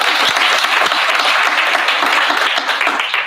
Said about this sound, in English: I think she deserves a hand of applause.